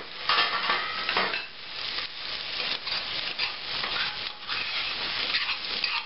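Onions caramelizing in a pan for green chili soup sizzle steadily while a utensil stirs them back and forth, with rhythmic scraping strokes over the constant frying hiss, close and fairly loud.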